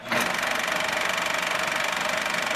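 A Parsun 2.6 two-stroke outboard boat motor starts and runs at a steady, buzzy idle, close and unbroken with no talk.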